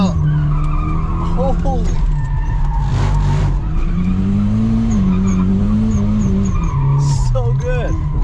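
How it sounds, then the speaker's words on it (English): A car slides with the handbrake pulled at a private compound, tires squealing in long wavering skids over a loud droning engine, close and continuous, with a brief excited exclamation partway through. "It slides really nice. The handbrake works really well."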